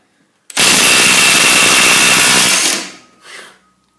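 Makita 1/2 inch cordless impact wrench run hard under load in a torque test, a loud continuous hammering rattle for about two seconds that winds down, followed by a short second burst.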